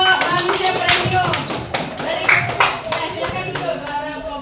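A group claps together in a dense, lively burst of applause lasting several seconds, with a voice faintly present underneath.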